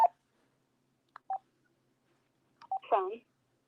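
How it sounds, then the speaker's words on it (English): Telephone dialing tones, a few separate short electronic beeps spaced irregularly across near-silence, with a brief voice-like sound at the end. "Phone."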